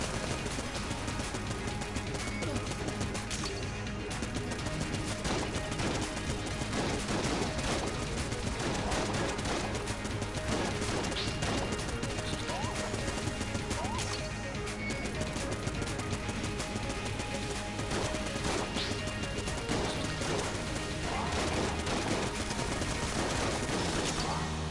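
Dense, continuous gunfire from the top-down bullet-hell game Enter the Gungeon, with rapid shots and incoming bullets crackling nonstop at steady loudness, music faintly beneath.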